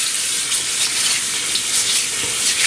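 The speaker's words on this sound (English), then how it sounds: "with the water, there's more lubrication between the skin and the bristles, and it feels really good" Hands scrubbed with a Scotch-Brite hand and nail brush under running tap water give a steady, close, continuous watery hiss with no talking.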